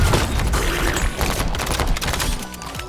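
Continuous loud gunfire from a shotgun and pistol in the video game Relic Hunters Legend, a dense barrage of booming shots filling the whole stretch.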